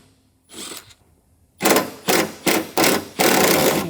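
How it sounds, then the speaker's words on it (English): Power driver backing a T30 Torx screw out of a Ford Maverick truck bedside, a short faint whir followed by four quick loud bursts and a longer final spin, close by. "Up here's a T30 Torx. We're going to remove that to get the panel installed."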